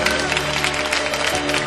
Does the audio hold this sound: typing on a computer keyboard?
no